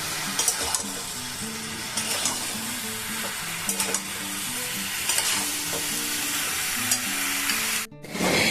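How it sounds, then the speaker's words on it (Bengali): Winter vegetables are stirred and mixed in a hot pan, with repeated scraping spoon strokes over a constant soft sizzle, close and fairly quiet, broken by a brief pause near the end. "এগুলোকে সব একটু ভালো করে মিশিয়ে নেব"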